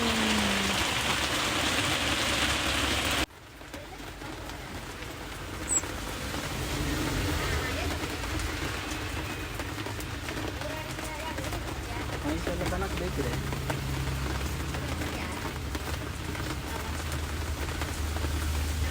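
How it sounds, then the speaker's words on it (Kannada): Steady rain falls outdoors in a village, a dense continuous hiss of drops on surfaces that stops abruptly for a moment early on, then resumes and holds evenly. "ಮಳೆ ಬರ್ತಾ ಉಂಟು ನಮ್ಮ ಊರಲ್ಲಿ."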